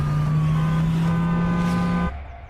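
A police car siren wails loudly and steadily as the vehicle turns and drives away, with engine noise underneath, then cuts off abruptly near the end.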